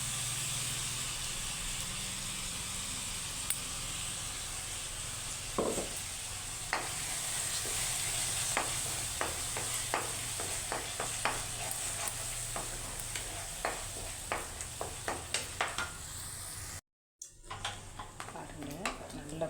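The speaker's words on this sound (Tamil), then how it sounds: "கொதிச்சுக்கிருக்கு நல்லா கொதிக்கட்டும்" Thick, spicy chutney paste bubbles and sizzles in a pan, soft hissing broken by scattered pops and spatters, with occasional stirring sounds.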